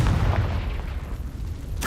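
A Confringo fire spell explodes in the Hogwarts Legacy video game: a loud, sustained burst of roaring, crackling blast noise that rumbles throughout, with a fresh sharp burst right at the end.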